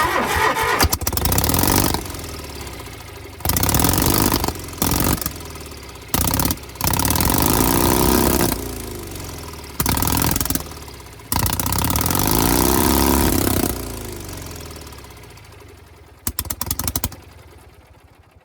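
An old tractor engine being coaxed to fire on carb cleaner: repeated loud bursts of cranking and sputtering combustion, several short catches that die out between quieter pauses, with no talking.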